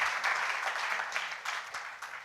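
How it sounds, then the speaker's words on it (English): Conference audience at a jsday 2019 web-development talk giving a gentleman a round of applause, a soft, distant wash of many hands clapping steadily and thinning toward the end, no talk. "please, round of applause for the gentleman."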